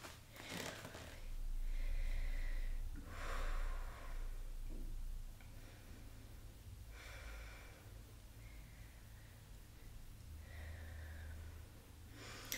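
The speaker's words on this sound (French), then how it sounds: "Prends des bonnes respirations." Deep, slow breaths during a leg-stretching flexibility routine working toward the splits, several long inhales and exhales spaced out over steady low background hum, with no talking.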